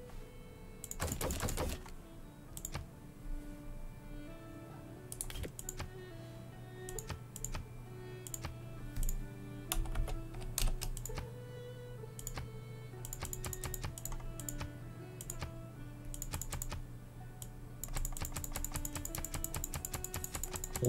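Fast, dense clicking on a computer keyboard runs throughout, rapid irregular bursts of key taps close by over a steady low background hum of game music, no voice.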